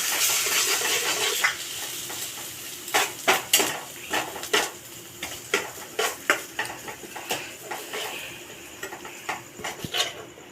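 A spatula stirs an egg mixture with spices in a pan for bread pockets, first a soft sizzle and then a run of about a dozen sharp metallic scrapes and clinks in an uneven rhythm, close and with no speech.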